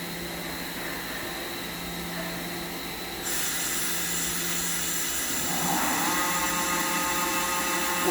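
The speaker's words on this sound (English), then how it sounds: "Let's run the spindle, please." A 2003 Mazak FH-6000 four-axis horizontal machining center spins up its spindle, a steady close machine whine with broadband hiss that steps up in pitch and intensity partway through and holds, with no talking.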